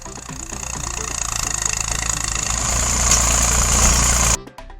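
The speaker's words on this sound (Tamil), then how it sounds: "தக்காளி விளைந்த நிலத்தில் டிராக்டர் ஓட்டி செடிகளை அழித்துள்ளனர்" A tractor driven over a tomato field chugs in a close, steady diesel drone that grows slightly louder before cutting off abruptly near the end.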